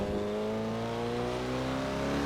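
A classic Datsun 240Z's engine in Assetto Corsa, driven around Spa, holds a steady, loud, droning hum whose pitch climbs slowly and evenly while accelerating, with no voices.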